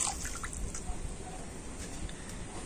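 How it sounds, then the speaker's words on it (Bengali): Cow's milk pours into a cooking pan, producing a faint, steady liquid rush with soft dripping. "আর এখন আমি দুধটা কড়াতে দিয়ে দিচ্ছি।"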